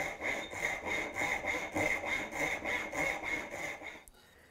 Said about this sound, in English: this is where having the rip tooth saw actually does come important, because this is a longer cut